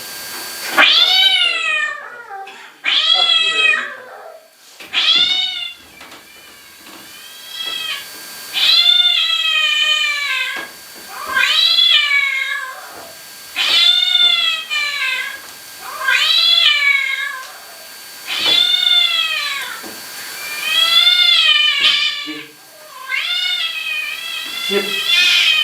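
A cat meows over and over in a steady run of long, rising-and-falling cries. It is close and loud, with short pauses between calls and no talk over it.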